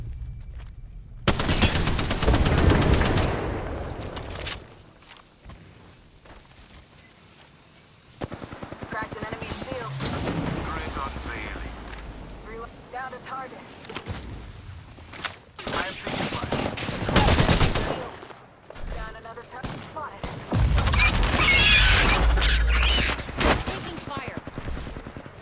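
Video game gunfire from Apex Legends, loud bursts of automatic and single shots in several clusters across the stretch, with a voice speaking between the volleys.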